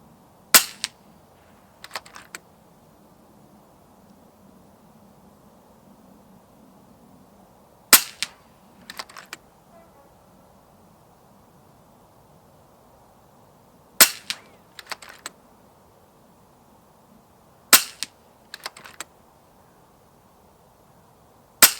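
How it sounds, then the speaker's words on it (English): An FX Impact M4 Extended .25 calibre FAC air rifle with a moderator fires outdoors, producing sharp cracks that come in small bursts of two or three, each set followed by pellet impacts, with long quiet gaps between sets. "Right, I've been out shooting with this Impact M4 FAC, the extended version."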